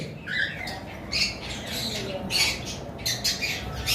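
Lovebirds in a cage give sharp, repeated squawks in bursts over a busy background.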